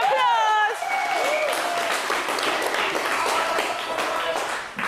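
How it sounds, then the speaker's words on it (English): Dance and fitness workshop participants applaud themselves in loud, dense, continuous clapping, with a voice speaking over the first moment before the applause carries on alone. "Give yourselves a round of applause."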